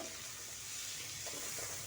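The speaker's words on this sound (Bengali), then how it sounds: "আর একটু ভাজা ভাজা করবো হয়ে যাবে" Pumpkin greens sizzle steadily in a pan on an electric heater, a close, continuous frying hiss with faint stirring scrapes underneath.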